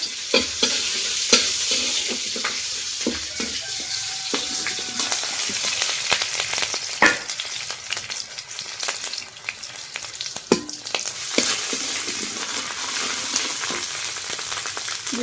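Chopped green chillies fry in hot oil with a continuous close sizzle, broken by frequent scraping and clacking strokes of a spatula stirring them around the pan.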